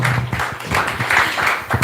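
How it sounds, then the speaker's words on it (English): Applause from a devotional gathering welcoming a guest at a kirtan event, a dense steady patter of many hands clapping for about two seconds with a low hum underneath. "A huge round of applause to him."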